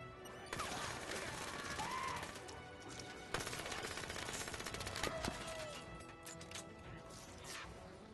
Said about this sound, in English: Oh my god, I love this SMG